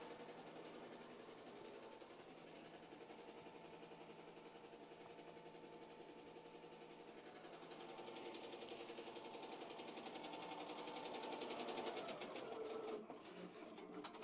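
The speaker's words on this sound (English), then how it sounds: "Now it's going to start laying down a satin stitch around the whole perimeter of the design." A Ricoma EM-1010 embroidery machine lays down a satin stitch around an appliqué design, a fast, even mechanical whir and needle rattle that runs steadily throughout and grows slightly louder near the end.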